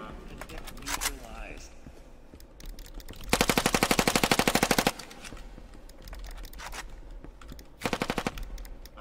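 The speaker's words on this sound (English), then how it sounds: "Stop shooting me! Why are you shooting me?" Rapid automatic gunfire in the video game Elevated: a long burst of fast, evenly spaced shots, then a shorter burst later, loud and close, with people talking over the quieter stretches.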